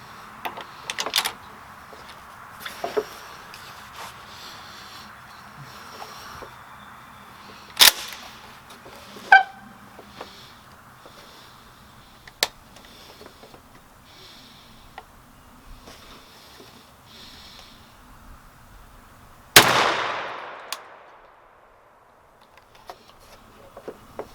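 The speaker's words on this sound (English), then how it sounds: "shoot the Longbeard XR 3-inch number 5 at the right target" A Longbeard XR 3-inch number 5 shotgun shell fired from a Stoeger M3500 at a target outdoors, a single loud blast about four-fifths of the way in, fading into a long echo after several quieter clicks and knocks, with no talking.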